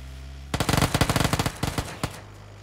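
Rapid bursts of automatic gunfire in a multiplayer shooter video game, a run of close, loud shots in quick succession that trails off into a few scattered single shots.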